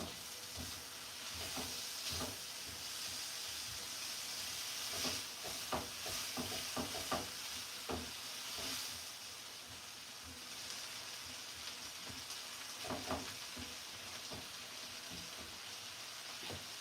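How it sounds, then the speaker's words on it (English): Chicken fries in a pan for a pasta dinner, a steady soft sizzle and hiss throughout, punctuated by scattered light clicks and taps of cooking utensils. "The chicken is cooking."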